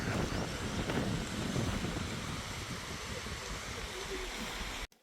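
A mountain waterfall near Koti village outside Dehradun gives a steady, broad rushing roar of falling water for several seconds with some wind buffeting, cutting off abruptly at the end.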